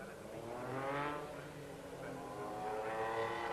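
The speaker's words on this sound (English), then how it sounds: "that's Tony Pond in the all-white car, coming now to take up his grid position" A Metro 6R4 race car rolls onto the starting grid at the 1988 Birmingham Superprix, its engine a steady buzzing drone that swells and eases slightly, heard from some distance at modest volume.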